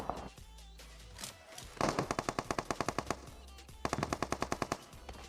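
Rapid automatic gunfire in the mobile battle royale game Battlegrounds Mobile India, two sharp bursts of evenly spaced shots after a muffled opening, close and punchy.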